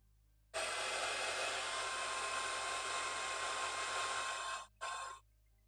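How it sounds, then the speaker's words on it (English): A hair dryer switches on and blows with a steady, loud whooshing roar during a hair-styling session, cuts out briefly near the end, then restarts for a moment before stopping; no voices. "I always need the hairdryer."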